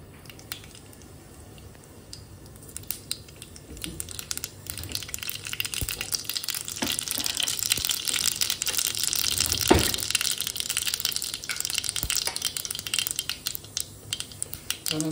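Mustard seeds sizzle and crackle in hot oil in a kadhai on a gas stove for tempering, a steady frying hiss that grows louder, with scattered small pops and no talk.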